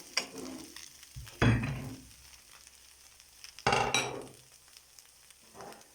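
A thick grated-potato pancake frying in a pan: a soft continuous sizzle broken by a few louder scraping, stirring bursts as it is worked, with no one talking.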